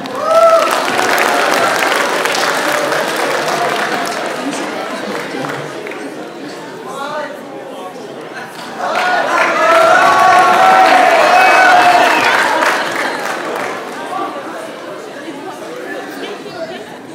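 Charity concert crowd applauding and cheering, broad clapping and voices swelling, dipping, then rising again, with a compere talking over parts of it.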